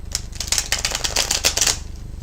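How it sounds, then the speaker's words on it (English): Tarot cards being shuffled, a quick run of crisp, close riffling clicks and flutters lasting a couple of seconds with no voice. "I'm shuffling the cards and I'm connecting with you on that level."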